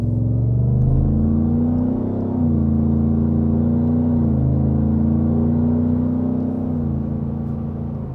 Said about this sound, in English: I'm gonna go ahead and take off and let you guys see what it's like accelerating up the speed for the highway